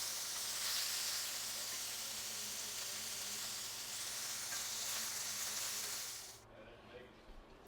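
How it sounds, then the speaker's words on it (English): Chicken pieces frying in hot oil in a pan, a loud continuous bright sizzle and hiss that carries on steadily and then drops away sharply near the end. "Look at that sizzle."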